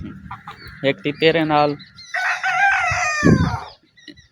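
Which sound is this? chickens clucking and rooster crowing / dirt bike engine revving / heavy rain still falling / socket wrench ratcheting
chickens clucking and rooster crowing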